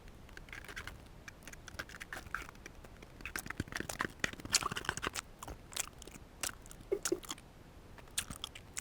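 Close, wet chewing and crunchy bites of food, with mayonnaise mentioned, during a mukbang eating session, arriving as steady irregular smacks and crunches for several seconds with no talking.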